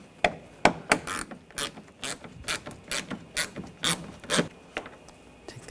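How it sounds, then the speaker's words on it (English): A ratchet with an 8mm socket backs out front bumper screws on a 2007-2013 BMW X5, a close run of sharp clicking bursts in uneven rhythm, loud and alone. "We're going to take these screws out. You're going to use a 8mm socket."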